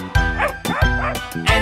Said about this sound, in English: There was a farmer had a dog, and Bingo was his name.